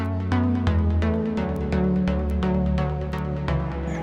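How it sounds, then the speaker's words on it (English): A bright synth pluck sound plays a quick repeating pattern of short notes over a steady chordal backing, with no voices. "get a pluck sort of sound like this"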